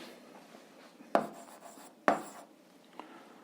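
A pen writes on paper while working an 8th-grade algebra exercise, with soft scratching strokes broken by two sharp taps, close and quiet, without talk.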